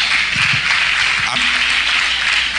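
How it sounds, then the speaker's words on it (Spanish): A church congregation claps through a worship service, the applause running steadily while a voice speaks over it near the start. "Un aplauso a Jesús"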